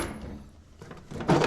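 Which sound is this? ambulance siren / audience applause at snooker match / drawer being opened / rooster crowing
drawer being opened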